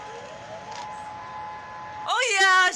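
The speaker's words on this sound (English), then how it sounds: "Oh yeah, siren test." A civil defense siren test in Honolulu, Hawaii: a steady, distant wailing tone holds throughout, and a person starts speaking near the end.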